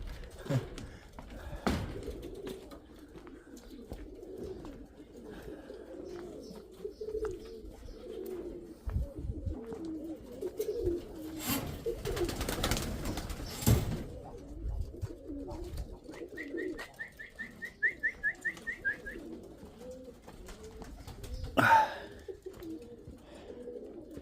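Young pigeons coo softly and low throughout, a steady murmuring bed of sound, with a brief louder burst of noise near the middle and a short high trill later on.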